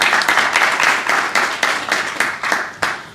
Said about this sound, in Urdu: ایک دفعہ تالیاں طارق حنیف صاحب اور ان کی پوری ٹیم کے لیے بجائیے